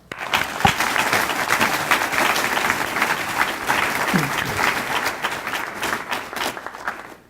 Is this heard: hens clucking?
no